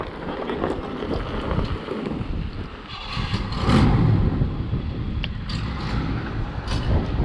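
The 454 big block engine of a 1982 Chevrolet dually flatbed truck idles outdoors at a farm shop, giving a steady low rumble with wind noise throughout and no talking.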